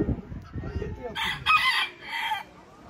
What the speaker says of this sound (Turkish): Tavus kuşundan sonra bir gold zibrit ötüşüyle devam ediyoruz.